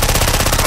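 Rapid automatic gunfire from Left 4 Dead 2, a dense burst of shots firing in quick rhythm, loud and close, filling the short moment without any voices over it.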